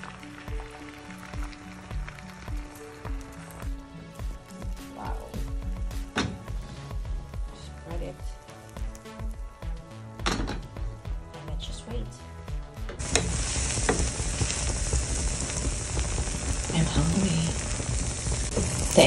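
Egg frying in olive oil in a pan, a steady loud sizzle that begins abruptly partway through and holds to the end, after quieter kitchen sounds and music.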